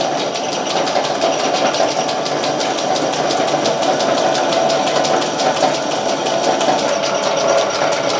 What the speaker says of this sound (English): So there you go. It's a drill press.